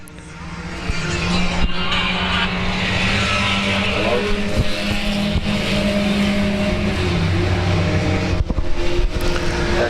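Race cars lapping at South Texas Speedway, a loud continuous roar of engines passing with rising and fading rasp and some tire noise, dense and sustained throughout.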